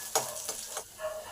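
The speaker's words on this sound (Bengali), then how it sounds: "পেঁয়াজটাকে ভালো করে ভেজে নেব" Onions frying in a pan for dal give a bright sizzle, broken by three quick stirring scrapes across the pan in a short burst.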